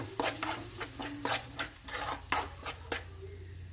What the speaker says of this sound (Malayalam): രണ്ട് സ്പൂൺ ഇഞ്ചി രണ്ട് സ്പൂൺ വെളുത്തുള്ളി ഇളക്കി കൊടുക്കട്ടെ